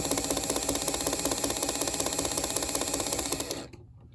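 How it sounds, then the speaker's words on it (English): An HO scale model train motor whirs with a rapid, regular clicking grind from a broken gear, running steadily before cutting off abruptly near the end. "It does definitely sound like there's a broken gear"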